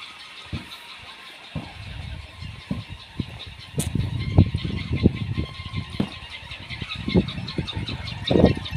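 A motorcycle engine draws closer and arrives outdoors in a village setting, its uneven putter and revs building louder toward the end amid scattered knocks and clatter from nearby.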